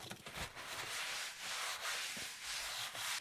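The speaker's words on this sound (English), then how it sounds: "we're going to have a clean up of all this swarf" Metal swarf is swept and brushed away while a motorcycle fork seal is serviced, producing a continuous rough rubbing and scraping hiss, fairly faint and close, with no voices.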